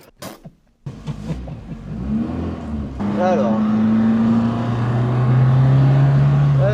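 A Renault 5 Alpine engine starts up, then idles and revs with a rising, steady hum that grows louder and holds near the microphone. Someone speaks briefly at the start.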